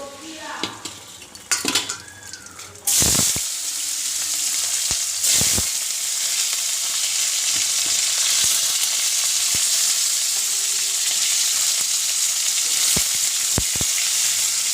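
Potatoes frying in a pan, tipped into hot oil after cumin seasoning: a sudden loud burst of sizzling starts a few seconds in and holds steady, with occasional utensil knocks and scrapes against the pan, and brief speech-like sounds before the sizzle.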